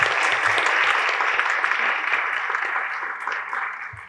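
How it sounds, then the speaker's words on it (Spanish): Audience applause at the close of a round-table panel on import regulation policy, a steady broadband clatter of many hands clapping continuously throughout, fairly loud and even, tapering slightly toward the end. "Un fuerte aplauso para ustedes y sobre todo para quienes conformaron esta mesa."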